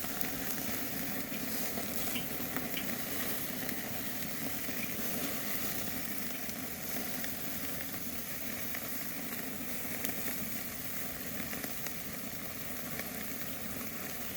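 Beef tenderloin, cooked sous vide, searing on a hot charcoal grill, giving a steady, even sizzle and crackle that holds throughout at a low level, with no voices.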